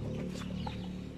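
Chickens cluck softly nearby over a low steady hum, a few short clucks scattered through the moment.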